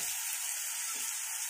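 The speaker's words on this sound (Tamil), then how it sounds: "வெங்காயம் வதக்கிடுச்சு இந்த பச்சை பட்டாணி போட்டுக்கலாம் தெரிக்கும் அதனால வந்து மூடி வச்சுக்கோ" Chopped onions and green peas frying in a covered pan, giving a steady, soft hiss of sizzling with no voices.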